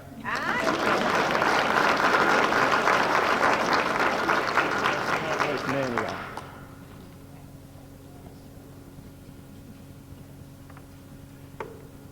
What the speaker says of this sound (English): We're patient. Give him a hand clap.